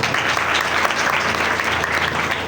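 A Christmas meeting congregation claps for themselves, a dense, steady round of applause at a constant loudness throughout with no talk over it.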